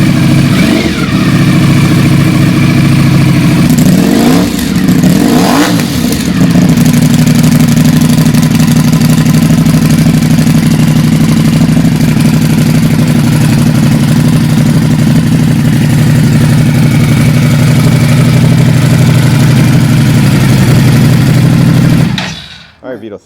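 A Ducati Panigale V4S motorcycle engine idles steadily after start-up, a loud, close, even rumble with a couple of brief throttle blips early on before it cuts off at the end.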